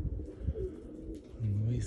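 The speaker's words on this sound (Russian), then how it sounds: "Ну что, голуби рискуют," Pigeons cooing outdoors in winter, low soft coos repeating under steady background noise, with a longer drawn-out coo near the end.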